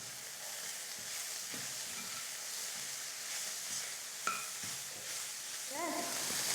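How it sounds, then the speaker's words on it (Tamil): Beans poriyal with grated coconut stirred in a pan, a steady soft sizzle with scattered spoon scrapes and clinks near the end, close and continuous with no talk. "இந்த தேங்காய் துருவல் சேர்த்துட்டு நான் 1 நிமிஷம் நல்லா கலந்து கொடுத்துட்டு ஸ்டவ் ஆஃப் பண்ணிக்க போகிறேன்."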